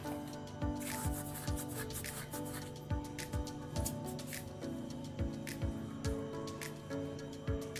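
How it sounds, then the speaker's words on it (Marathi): Carom seeds (ajwain) are rubbed between the palms, making soft, close rustling and rubbing strokes in a steady rhythm of quick repeated swipes, quiet and without speech. "1/2 चमचा ओवा थोडा हातावर चोळून घ्यायचा"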